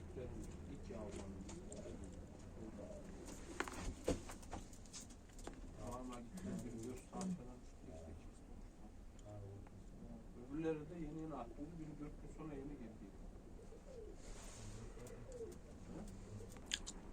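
Fancy tumbler pigeons of a Turkish flying breed coo in soft, repeated rolling phrases close by, with scattered wing flutters and scraping. Someone talks quietly over them at times.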